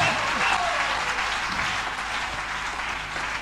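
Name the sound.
church congregation applauding to acclaim Jesus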